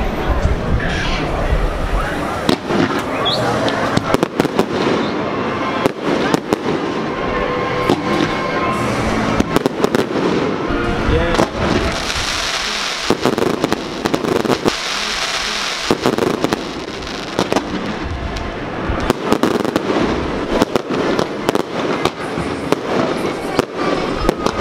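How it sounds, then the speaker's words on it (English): A fireworks show with fizzy crackling clouds and screamers, loud booms and dense crackle bursting repeatedly for the whole stretch, with crowd chatter underneath. "That was a good fireworks show."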